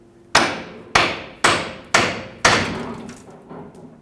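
Five loud, evenly spaced hammer blows ring out one after another, each with a sharp metallic strike and a short decay. A steering knuckle is being tapped free of its lower ball joint on a 1996-2002 Toyota 4Runner, with no talking.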